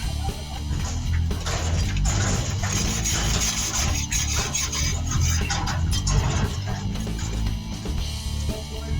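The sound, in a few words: wire brush scrubbing brake parts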